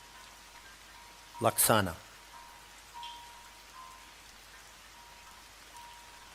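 Rain falls steadily outside, a soft even hiss across the whole stretch, with a single brief spoken word near the start and otherwise no talking.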